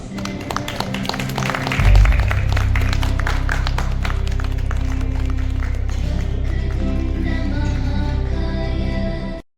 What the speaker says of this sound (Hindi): कृपया जोरदार तालियों से स्वागत और नमस्ते नमस्ते